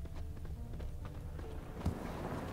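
Horse hooves clip-clop in a fantasy video game, a purebred warhorse moving at a steady gait, with soft rhythmic thuds layered under ambient game sound and a faint voice nearby.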